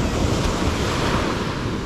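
Ocean waves washing onto the shore at Baler, a steady close surf roar with some wind buffeting the microphone, no voices.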